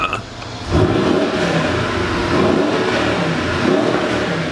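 A 2014 Mercedes-Benz GL63 AMG SUV with Designo trim revs its exhaust, a steady, loud engine roar rising after a brief quiet start and holding, heard close with no talk.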